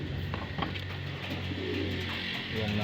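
Pigeons cooing in a backyard loft at early morning, soft repeated low coos over steady background hum and ambient noise, no talking.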